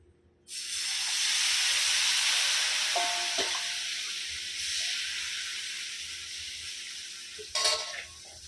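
Rava dosa batter hits a hot pan and bursts into a loud, sustained sizzle that slowly fades, with a few clinks of a utensil partway through and near the end.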